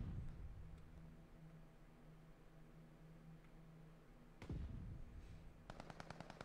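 Video game gunfire during a ranked match plays as a low rumble, then a sharp burst hits, followed by a rapid, evenly spaced string of automatic shots near the end, all fairly quiet.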